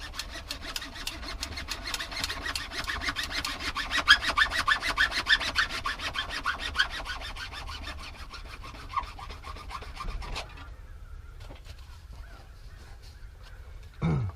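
PVC drain pipe for a crawl-space sump pump discharge being hand-sawn to length: steady rapid rasping strokes for about ten seconds, then the cutting stops and only faint handling noises remain.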